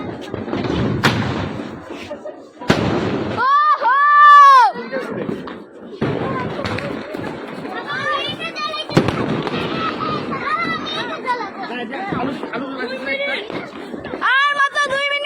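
Fireworks on New Year's Eve night go off in sharp bangs and crackling bursts, some whistling rockets rising and falling, close and loud amid excited shouting and chatter.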